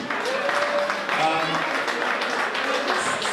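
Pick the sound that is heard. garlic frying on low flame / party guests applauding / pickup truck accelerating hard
party guests applauding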